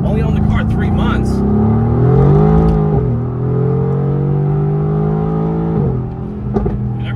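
Mercedes-AMG GT R engine drones and builds as the car accelerates on a road, a loud steady tone rising in pitch, easing, then climbing again, heard from inside the car.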